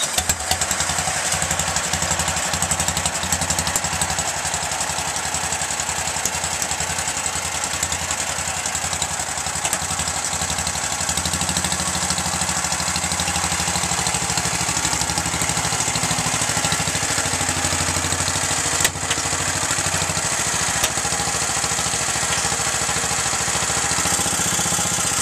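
A 1979 Dynamark 11/36 lawn tractor engine idles steadily just after a cold start, a close, loud, even mechanical chug with light clatter running without a break.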